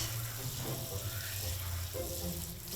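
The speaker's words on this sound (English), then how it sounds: "we're making sure the water works. We're making sure it gets hot." A kitchen tap runs steadily during a final house walk-through, a continuous close hiss of water filling a sink with a low hum underneath and no pauses.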